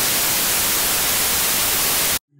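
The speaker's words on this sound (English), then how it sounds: "Let's hear the white noise again." A loud, steady hiss of broadband static fills the sound evenly, then cuts off abruptly into near silence at the end.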